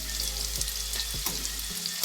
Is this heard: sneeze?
no